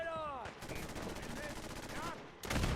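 Cannons fire warning shots from a ship in a game, with a rapid run of booming blasts that blur into a continuous volley, ending in a heavy burst.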